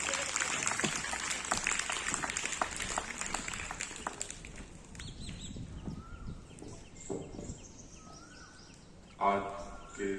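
Applause from an audience at an outdoor International Yoga Day event held by the MCD, strongest in the first few seconds, then thinning into scattered claps and crowd noise with birds chirping in the background.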